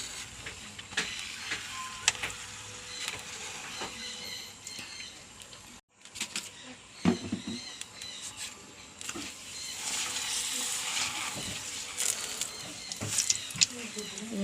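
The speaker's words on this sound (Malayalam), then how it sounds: "എണ്ണ കാഞ്ഞ് പപ്പടം വറുക്കാം." Papadam frying in hot oil in a home kitchen, ahead of mustard seeds in the same oil, gives a steady crackling sizzle with bursts of bubbling, mixed with clatter and a brief pause midway, and talk drifting over it.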